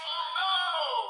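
Electronic scream sound effect from a DX Zikan Zax toy axe in axe mode, a short, tinny, high-pitched wail played through a small speaker, brief and alone.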